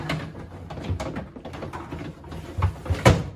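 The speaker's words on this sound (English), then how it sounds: "Put the meat tray back in." A plastic meat tray drawer in a Frigidaire Gallery refrigerator slides back into place: a series of close scraping and bumping knocks that build to a firm thud as it seats, with no speech.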